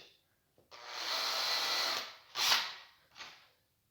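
A power drill whirs steadily into wood while building a bathroom sliding door, drilling through to a second piece of wood, for over a second, then gives two shorter bursts, close and fairly loud.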